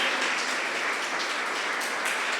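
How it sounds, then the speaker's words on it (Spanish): A church congregation applauds during a sermon with a steady, even wash of clapping at moderate distance, no voices on top. "Le damos un fuerte aplauso"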